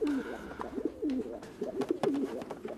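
A homing pigeon coos close by in repeated soft, throaty rolling calls, several in quick succession with brief pauses, over faint background noise.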